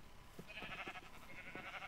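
Sheep bleat faintly in a Minecraft-style video game: a few short, soft bleats repeat over about two seconds, quiet and without any voices.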